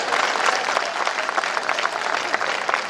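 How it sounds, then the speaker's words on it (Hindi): An audience at a Hindi comedy poetry gathering claps continuously in a dense, steady wash without any talk over it. "कम तालियों से मेरा सम्मान किया,"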